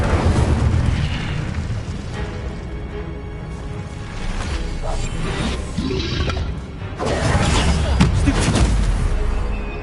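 A fire spell from the video game Hogwarts Legacy, cast as a loud, sustained fiery roar with booming bursts that swell and fade, most intense near the start and again toward the end.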